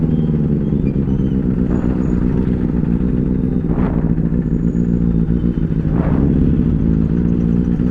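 A Triumph Street Triple 765S with a race-fit exhaust rumbles loudly nearby at night, its idle punctuated by two sharp throttle blips about two seconds apart.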